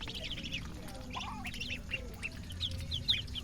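Domestic ducks being fed chopped water spinach (kangkong) squawk and quack in quick, overlapping calls close by, over a steady murmur of outdoor background noise.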